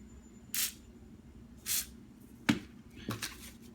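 Short hissing spray bursts of WD-40 onto a cylinder head, two distinct sprays followed by a couple of clicks and taps, quiet and close.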